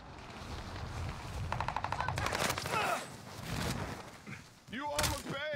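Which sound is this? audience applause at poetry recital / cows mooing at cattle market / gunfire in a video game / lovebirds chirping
gunfire in a video game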